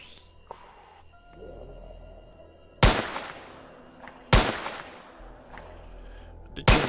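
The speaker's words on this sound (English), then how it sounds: "Did change the shooting sound" Gunshots from an Unreal Engine 4 first-person shooter game ring out as three loud, sharp cracks spaced a second or two apart, each decaying quickly over a quiet background.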